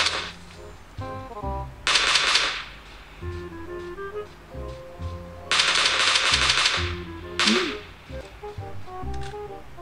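Gunfire in a PUBG Mobile match: several bursts of rapid shots crack out in clusters, some sharp and close, others lighter, separated by quieter stretches of game sounds, with no one talking.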